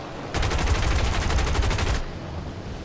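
A rapid, evenly spaced string of explosive bursts from bombs in War Thunder, loud and rattling for under two seconds before cutting off to a low rumble.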